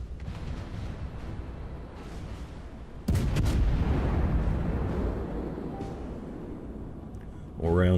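Cruiser main guns boom in World of Warships: one heavy broadband blast hits suddenly mid-scene, then rolls into a sustained loud rumble of battle noise, with a fresh surge right at the end.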